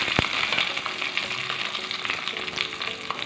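Crushed garlic and curry leaves fry in oil in a pan for rasam, giving a steady, close sizzle with faint stirring scrapes throughout.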